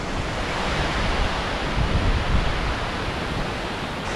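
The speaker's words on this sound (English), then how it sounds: "But here comes a good gust." A strong Hurricane Helene wind gust on Florida's west coast roars as a dense, broadband rush that swells slightly in the middle, buffeting the microphone with no voices.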